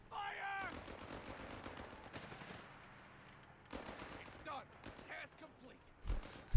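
Machine gun fire in Company of Heroes 3 crackles faintly in short rattling bursts beneath a commentator's talking, distant and low against the battle mix.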